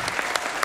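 Brief, lively applause from a TV comedy show's studio audience, a dense patter of many hands clapping with a few louder individual claps standing out.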